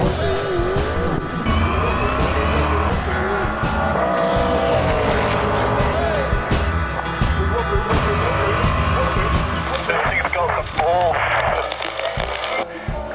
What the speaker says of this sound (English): Our Holden Sandman. Should we take this thing for a lap?